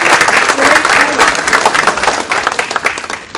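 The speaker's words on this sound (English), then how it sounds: "I really do think you all deserve a round of applause" An audience at a Cisco Networking Academy event in Latin America breaks into loud, dense applause, a sustained wash of clapping that fades slightly toward the end.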